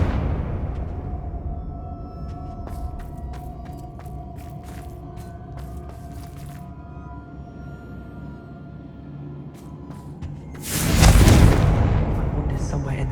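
A Confringo fire spell explodes in Hogwarts Legacy on PS5, a sudden loud burst near the end following a shouted incantation, over a steady game ambience with scattered clicks and light effects.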